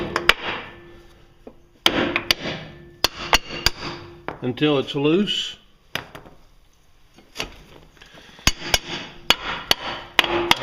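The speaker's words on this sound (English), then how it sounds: "tap it with a hammer," Sharp hammer taps strike a car wheel to loosen it while the lug nuts stay on, coming in clusters of loud, close, metallic knocks with pauses between them; a person talks briefly in the middle.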